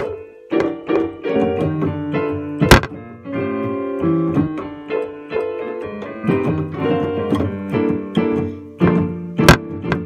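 Chord changes of a jazz standard voiced on a keyboard, a steady sequence of struck chords with bass notes and occasional sharp knocks, close and unaccompanied by speech.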